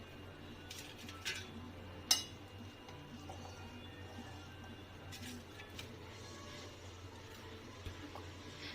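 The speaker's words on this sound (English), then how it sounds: "So let's serve it on the plate." Aloo chaat, Kolkata street style, being served onto a plate: faint, sparse clinks of a utensil against the dish, with one sharper knock, over a quiet kitchen background.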